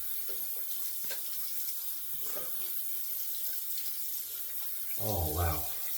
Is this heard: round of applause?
no